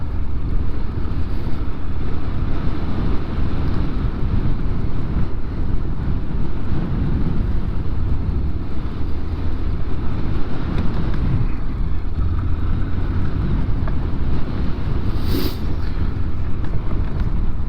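Honda NC750X DCT motorcycle rolling slowly over a bumpy gravel road with potholes, a steady low engine drone mixed with wind buffeting and crunching gravel, continuous and close throughout.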